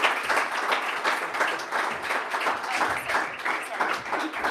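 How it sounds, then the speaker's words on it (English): Steady, dense applause from a large audience at a startup pitch night, many hands clapping continuously at a fairly close, even level for the whole stretch with no voices standing out. "Applause for you."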